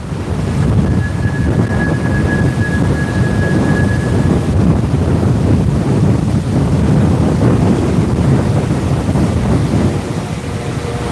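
Strong wind roars and buffets steadily near Waikiki and Diamond Head, Hawaii, a loud, constant rushing blast with low rumbling gusts and a faint tone briefly whistling through it.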